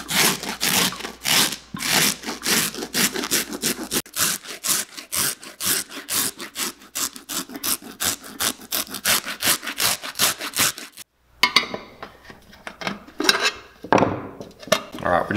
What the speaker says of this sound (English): take this rougher and just rough this leather up again so that